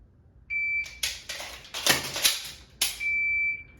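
Shot timer beeping during a dry fire pistol drill from a compressed ready position, a sharp electronic tone at the start and again near the end, with clicks and handling noises between.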